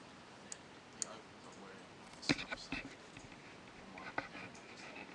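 Sharp computer mouse clicks land one at a time at about 1, 2.3, 2.8 and 4.2 seconds, short and close, over a quiet background with faint talk nearby.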